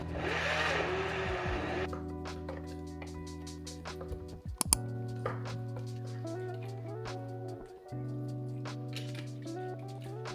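A blender struggles with a thick chocolate mixture and almond milk, its motor droning in steady tonal hums that shift pitch and stall, with clunks and ticks of the jar and a rougher churning burst at the start.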